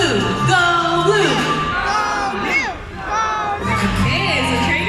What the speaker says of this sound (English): let me hear you cheer for Blue